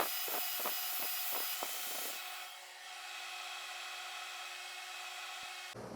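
A small maple bowl is sanded on a wood lathe with 220-grit paper: a few short, rhythmic scratchy strokes over the steady hum of the spinning lathe, followed by the motor running on its own.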